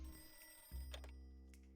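An old-style telephone bell in the Voodoo Detective video game rings in a short, faint burst over a low steady hum.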